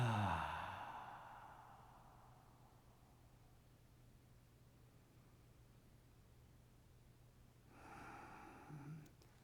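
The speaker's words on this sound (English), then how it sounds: "Long, deep breath." A long, deep exhale during cool-down breathing opens loud and close, then fades into quiet room hiss, with a faint breathy sound near the end.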